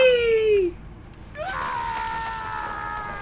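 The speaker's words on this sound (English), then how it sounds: "I love making the death animation scream come up." A character's death scream in Uncharted Remastered, a single loud falling wail that cuts off, followed after a short gap by a sustained tonal game sound.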